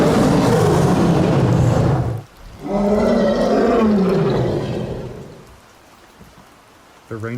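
An American lion, an extinct big cat, lets out two loud, close roars, the second longer and trailing off before a quiet stretch.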